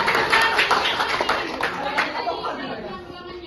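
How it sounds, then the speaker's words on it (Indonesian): Audience members clap their hands at a student group presentation, a dense patter of claps with some chatter mixed in, fairly close and steady before easing slightly toward the end. "Oke, kasih tepuk tangan."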